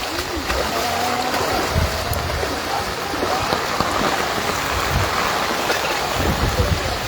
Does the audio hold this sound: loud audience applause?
no